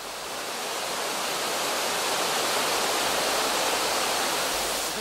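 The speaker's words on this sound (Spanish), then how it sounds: "Es extraordinario sentir el poder del agua cayendo." Water pours steadily down a cascade inside a decorated aquatic grotto modeled on Roman gardens, a dense, loud, unbroken rush with no pauses.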